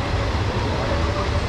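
A train rolls past on Thailand's Death Railway near the River Kwai Bridge, a steady broadband rumble and clatter of rail cars, fairly close and continuous with no voices.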